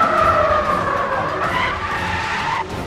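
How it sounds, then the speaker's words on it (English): Tire skid in the racing video game Need for Speed: The Run, a loud continuous screech of rubber sliding over tarmac with shifting pitch for nearly three seconds, cutting off near the end over engine rumble. "This is all the logic that goes into just playing this tire skid sounds."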